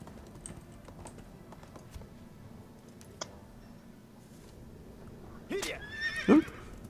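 A horse in the video game ArcheAge lets out a sharp, loud neigh near the end, preceded by faint clicking and tapping in a quiet background.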